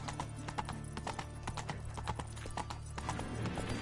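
Roach, the horse in The Witcher 3 video game, clip-clops along in an even, continuous rhythm of hoof strikes, close and distinct over a low steady background hum.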